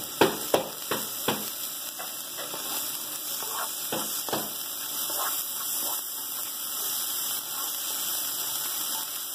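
Onion and bell pepper sizzle as they are sautéed with garlic in a pan for a corn-based paella mineira, opening with several quick utensil clacks, then a steady hiss of frying with occasional stirring scrapes.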